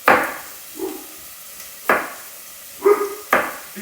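Knife coarsely chopping vegetables for Roman tomato soup, a few separate dull thuds on a cutting board at an uneven pace, close by, with no voices.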